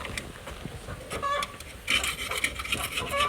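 Blade scraping grease off a part on a Nissan D22 rear driveshaft centre bearing job, a few short raspy scrapes, quiet at first, then a louder run of rough scraping strokes near the end.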